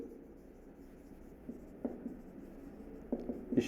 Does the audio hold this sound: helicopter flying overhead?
no